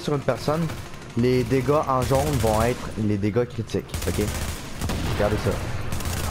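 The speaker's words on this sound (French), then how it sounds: "quand je tire sur une personne, les dégâts en jaune vont être les dégâts critiques" Gunfire in the video game The Division, with rapid shots cracking under someone speaking French commentary, the firing and talk overlapping throughout.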